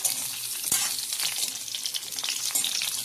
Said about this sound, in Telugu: మనం కట్ చేసుకున్న మునక్కాయలు వేసుకుంటున్నాను. ఇది కొంచెం ఫ్రై చేయాలి.